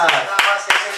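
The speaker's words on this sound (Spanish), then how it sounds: "Un aplauso para nosotros mismos" Several sharp, loud hand claps from a small group, spaced roughly a third of a second apart, with a voice speaking in between the claps.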